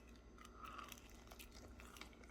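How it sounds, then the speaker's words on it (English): Crisp bites into baked potato wedges give a few quiet, sharp crunches followed by soft chewing, close up and faint, with no talking. "Let's hear the crunch."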